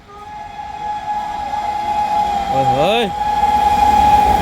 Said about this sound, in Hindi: भाई फुल हॉकिंग के साथ आ रही है श्रिल टोनर भाई साहब।